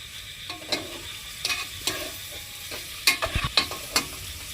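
Onion fries with salt in a pan, a low steady sizzle broken by a series of close scraping and tapping strokes as it is stirred, busiest in the final second and a half; no voice.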